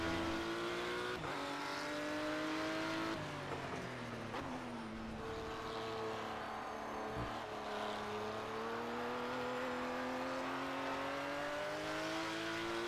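A race car in the video game Project Cars drives on circuit, its engine note climbing through gears and dropping under braking, steady and loud with a brief thump midway and no voices.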